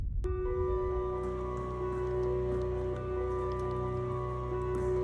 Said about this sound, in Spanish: fuertes lluvias, tormentas eléctricas y granizo extremo azotaron Arabia Saudita